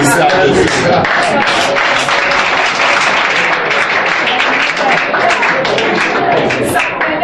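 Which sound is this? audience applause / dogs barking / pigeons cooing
audience applause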